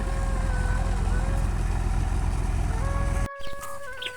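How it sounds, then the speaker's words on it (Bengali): Chickens cluck in a yard under a loud, low engine drone from a passing boat. The drone drops away near the end, leaving the fowl sounds more exposed. "এই মুরগিগুলো এত খায় বাপরে বাপ"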